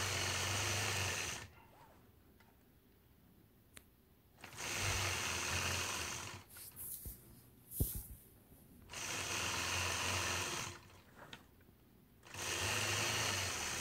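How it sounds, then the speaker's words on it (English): Sewing machine stitching a quilt block, running in steady bursts of a few seconds each, separated by quiet pauses with faint handling noises. "now stitching along the inside point to point around those marked or"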